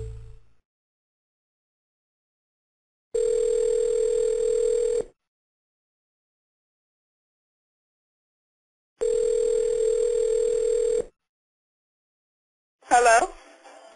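An outgoing telephone call during a cold-calling session rings on the line: two steady tones about two seconds long, separated by quiet, then a brief voice answers at the end.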